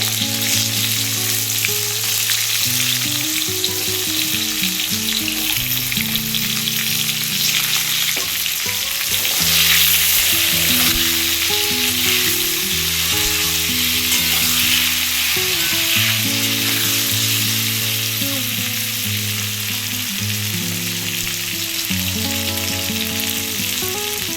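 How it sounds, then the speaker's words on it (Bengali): Sliced ridge gourd fries lightly in hot oil in a pan, giving a continuous dense sizzle and crackle from start to end, with steady tonal music running underneath and no talking. "আমি এর মধ্যে এবার একটু ঝিঙেগুলো দিয়ে একটু ভেজে নেবো হালকা করে"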